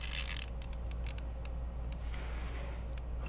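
A Typhoon color kit part being threaded onto a fishing reel makes faint, scattered metallic clicks and small mechanical ticks over a steady low background hum, close up and with no voices.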